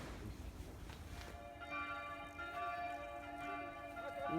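Church bells ring out in the Swiss mountain village of Adelboden. Their sustained, overlapping tones swell in after a moment and hang in the air, sounding from a moderate distance with no talk over them.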